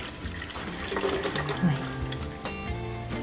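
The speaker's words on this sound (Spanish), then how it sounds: "voy a agregar un poquito más de agua a mi regadera" Water from a tap pours into a watering can, a continuous splashing fill close by, with a voice talking softly over it.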